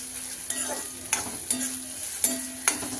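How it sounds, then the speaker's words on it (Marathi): Dried fish (sukat) is sautéed in a hot tempering in a pan, with a steady sizzle and a spatula scraping and stirring in regular strokes about every half second. "आणि आपण असं परतत राहायचं आहे"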